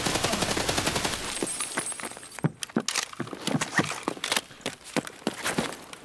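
Automatic gunfire aimed at a raider during a first-person shooter game, heard as a string of sharp, loud shots in bursts with short gaps, over a steady background bed of game ambience.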